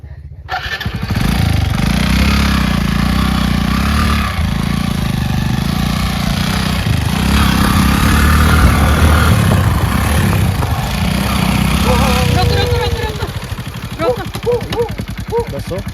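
A motorcycle engine runs loudly and steadily up close, a continuous rough drone that holds for most of the stretch before easing off near the end.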